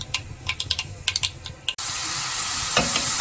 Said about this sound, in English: I'm going to put everything inside and then saute for 5 minutes.